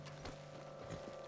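Faint horse hoof clops in Red Dead Redemption sound in a few quick steps against a quiet steady hum, soft and somewhat distant.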